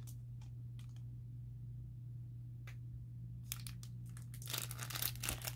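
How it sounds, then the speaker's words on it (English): The plastic package around a set of mini yarn skeins crinkles close by. Scattered soft rustles come first, then a denser burst of crackling over a steady low hum. "Sorry about all the crinkling."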